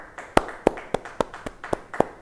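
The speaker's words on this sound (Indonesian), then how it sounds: "yang happy, beri tepuk tangan bagi dia." A church congregation at an Indonesian Bible study claps together, a sparse run of about seven distinct claps spaced roughly a third of a second apart, moderately loud with a little room echo and no talk.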